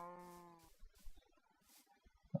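A cow in Minecraft gives a single low moo at the start, followed by quiet scattered game sounds.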